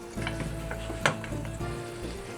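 Bacon sizzles and crackles steadily in a pan on an induction hob, a close, continuous fry with faint tonal hum beneath and one sharp clink of utensil against the pan midway.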